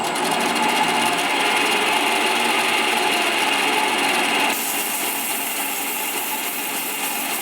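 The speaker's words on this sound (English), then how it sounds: "we'll be sanding at about 1100 RPM" A power sander runs at about 1100 RPM, a loud continuous buzzing whir that holds steady, then drops slightly in brightness partway through as the pad settles onto the surface, with no talk.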